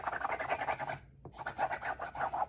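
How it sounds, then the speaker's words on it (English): Folded fabric is rubbed hard onto a junk journal cover in quick, rhythmic scrubbing strokes, close and moderately loud, with a brief pause and a small knock before the rubbing resumes. "Okay, there, give it a good rub."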